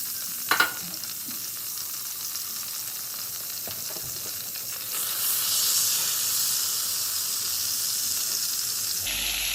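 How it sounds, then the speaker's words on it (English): Butter melting in a Staub pot sizzles with a continuous close hiss, opening with a couple of sharp metallic knocks, then the bubbling grows a little louder and steadier before a brief clatter at the end. "I am going to melt my butter here first."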